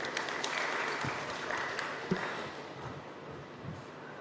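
Audience at a Goa history quiz clapping for a team's answer, a fairly faint, diffuse patter of applause that thins out, with a few louder individual claps.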